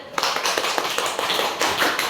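A classroom of students claps for a classmate returning to his seat, a brief burst of quick, close, uneven hand claps lasting about two seconds.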